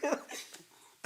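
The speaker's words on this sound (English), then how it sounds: "I'm coughing so much because it's so funny" Someone coughs close to the microphone in short, raspy bursts, one at the start and another at the end, separated by quieter breathy sounds.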